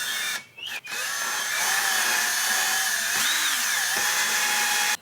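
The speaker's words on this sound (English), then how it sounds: "I use a cordless drill." A cordless drill whirs steadily at high speed with a couple of brief pauses, close up, with no talking, while lapping the engine valves of a Mach 1 Mustang.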